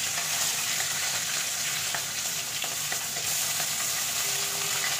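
Hilsa fish fries in hot oil in a pan, giving a loud, continuous sizzle and crackle close up with no talking.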